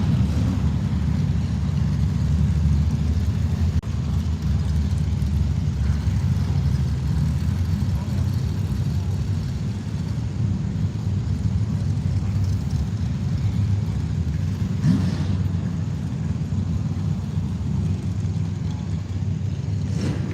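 Twin-turbo drag racing vehicles rumble steadily at a distance at a drag strip in the Southern Powersports Drag Racing Series, a low continuous engine drone that stays even throughout.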